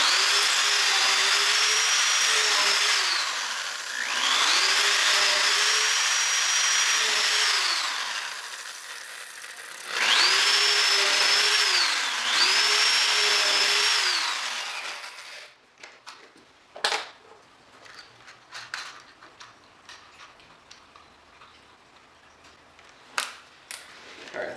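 A power drill bores pilot holes in wood for a DIY workbench, with four high whining runs that rise and fall in pitch. Afterward come scattered clicks and knocks of the tool and bit being handled.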